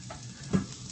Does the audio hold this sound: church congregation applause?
no